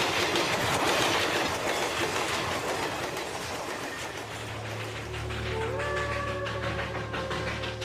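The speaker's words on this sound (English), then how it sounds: "the super-fast express trains command the rails" An express train runs on rails in India, a loud rushing rumble with rapid clickety-clack from the wheels that eases into a steadier rolling hum, with a sustained horn-like tone entering partway through.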